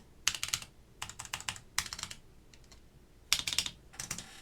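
A mechanical keyboard with Alps SKCM Brown switches in an ETAR87 build is typed on close up, with bursts of crisp, rapid clacky keystrokes separated by short pauses and no one talking.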